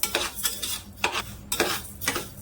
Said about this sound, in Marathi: त्यासाठी ना सतत असं हलवत राहायचं